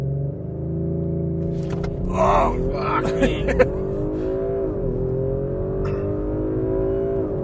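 A 2018 Audi RS 5 launches hard under launch control, its engine droning steadily and rising in pitch from inside the cabin while an occupant exclaims and speaks over the acceleration.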